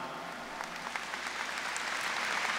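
A church audience applauds, a soft, distant wash of clapping that builds slightly over a couple of seconds.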